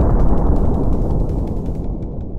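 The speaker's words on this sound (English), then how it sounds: "inspired by atomic explosions or nuclear explosions that you see in the movies" A nuclear-style explosion sound effect, built as a long atomic blast for sound design: a loud, sustained low rumble with dense roaring texture that slowly decays over a couple of seconds, alone with no voices.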